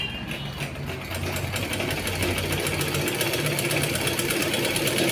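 A sewing machine stitches frills onto a chudi pant, its fast, steady mechanical whir running continuously and close, with no talk over it.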